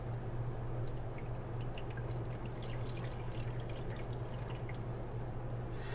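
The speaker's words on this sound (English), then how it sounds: "And all I need to do is pour out the water." Water pours steadily out of a seed-sprouting jar in a continuous trickling splash with a low hum underneath and no talking.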